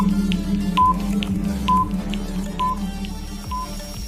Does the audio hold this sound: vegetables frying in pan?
no